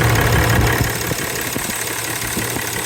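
A Ram 3500 pickup's engine idles after an alternator replacement, a steady close rumble with a faint ticking pulse and no other sounds over it.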